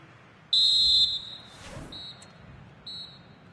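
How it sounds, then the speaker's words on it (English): A referee's half-time whistle in the FIFA 25 football video game: one long shrill blast, then two shorter ones, clear over a quiet background. "And there it is, the half-time whistle."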